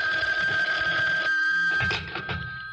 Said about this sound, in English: Reuben, aren't you going to answer the phone?